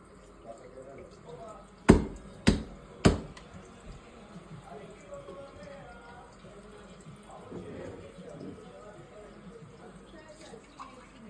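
Tap water runs into a sink while dishes are rinsed, with three sharp clattering knocks of crockery early on, then a steady trickle beneath people talking.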